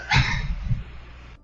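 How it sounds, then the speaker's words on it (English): A dog barks twice in quick succession indoors, a short muffled bark and a softer follow-up, close to the microphone with no talking. "I got dogs barking, sorry."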